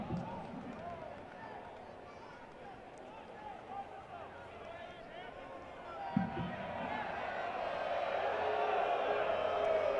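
Spectators at a Ballard FC versus Lane United soccer match grumble and murmur together over a disputed throw-in, a low, distant crowd reaction that swells toward the end beneath a commentator's talk.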